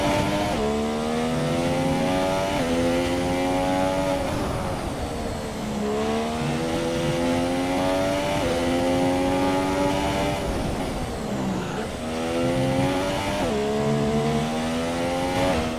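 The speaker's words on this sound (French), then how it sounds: "Écoutez le moteur et surtout le passage de la boîte." A Formula 1 car engine from the F1 2017 video game screams at high revs, its pitch climbing and then dropping sharply at each gear shift, repeated several times, loud and continuous with no voices.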